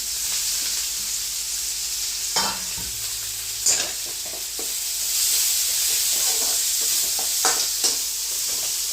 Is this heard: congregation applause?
no